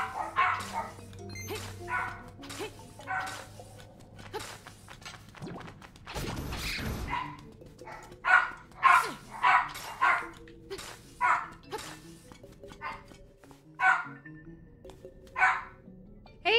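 Puppies yapping in the video game Zelda: Link's Awakening, a run of short, sharp barks repeating in bursts, fairly close, with a brief louder crash partway through and game sounds around them.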